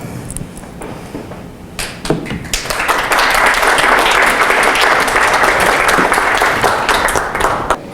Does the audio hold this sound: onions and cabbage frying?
no